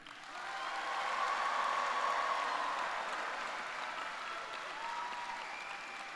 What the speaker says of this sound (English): Let's give them all a round of applause right now.